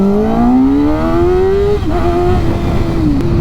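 Motorcycle fitted with a cheap aftermarket eBay exhaust revving hard, its engine note climbing steadily then dropping with a crackle of pops, loud and close throughout.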